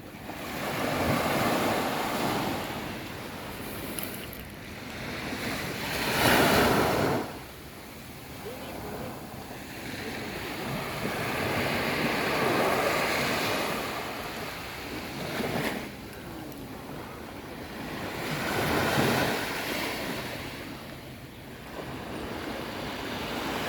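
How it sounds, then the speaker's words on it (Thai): Gentle sea waves wash ashore at Phayun Beach, a steady surging wash with swells rising every few seconds, softened by wind noise against the microphone, while someone talks at times over the surf. "คลื่นเบาๆครับพี่น้องคลื่นเบาๆ สวยงามมากๆเลยครับ"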